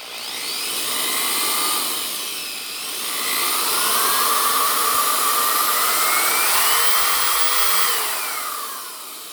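An old corded power drill with arcing brushes runs continuously, its loud motor whine sagging and then climbing again as the speed shifts before easing off near the end, with no talking.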